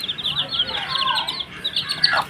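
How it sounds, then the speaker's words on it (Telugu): Young chicks cheep in thin, high chirps close by, a continuous twittering stream with brief louder calls near the end. "చూడండి, కోడి పిల్లలు ఎంత ముద్దుగా వస్తున్నాయో"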